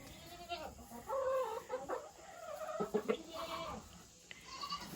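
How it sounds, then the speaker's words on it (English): Rooster clucking and calling inside a farm coop, several short bursts and drawn-out crowing-like calls spread over a few seconds, fairly close with background farmyard noise. "But these are the 2 roosters that always come back to this coop."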